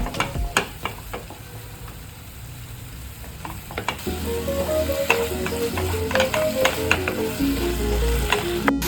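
Ginger garlic paste is stirred into tomatoes frying in a pan for prawn biriyani, with a steady close sizzle and repeated scraping, clinking stirring strokes that grow louder partway through.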